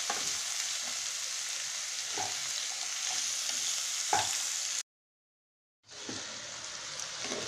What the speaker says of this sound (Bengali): দিয়ে আমি এখন খানিকটা নাড়াচাড়া করবো, কারণ লাউ থেকে